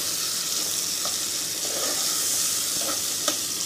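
Tomato cooking in a pan with fried ginger and garlic for mixed dal, stirred with a spoon: a steady, loud sizzle with a few scraping stirs, no talking.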